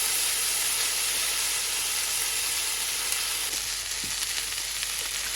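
Ginger garlic paste sizzles steadily in hot oil alongside whole cinnamon, cardamom and bay leaf, a constant bright frying hiss with a few faint clinks, no talking.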